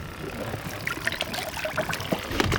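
Water is poured into a fish sampling container fitted with an air pump, producing small trickles, splashes and clinks close by, with faint speech behind them.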